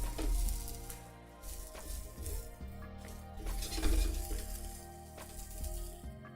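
Garlic sizzles steadily in a hot pan as a utensil stirs it, with scraping and clinks breaking through the continuous frying hiss, close and alone without talk.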